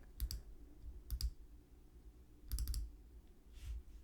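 A computer mouse clicks in a few crisp, close pairs and small clusters, separated by quiet pauses, with no talking.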